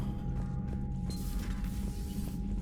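A sci-fi door mechanism slides open in Mass Effect 3, a steady mechanical whir with a faint creak over a constant low ambient hum. It is moderately quiet and has no talking.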